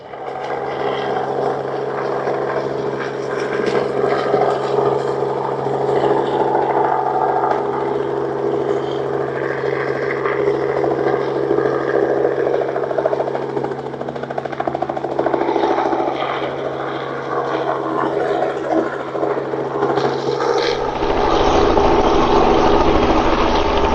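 Helicopter engine and rotor droning steadily throughout a long stretch, a continuous close hum heard from inside or near the aircraft, with a sharp shift in tone near the end.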